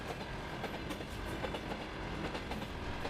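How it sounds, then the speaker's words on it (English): A 2TE10MK diesel locomotive hauls a heavy freight train along the Bryukovetskaya–Timashevskaya route in Krasnodar Krai. The continuous rolling roar comes with a rhythmic clickety-clack of wheels over the rail joints, heard from a distance and with no voices. "the powerful 2TE10MK3024 diesel locomotive hauled a heavy freight train along the Bryukovetskaya-Timashevskaya route"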